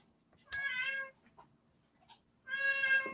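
A cat meows twice, each call clear and fairly close, with a near-silent pause between the two.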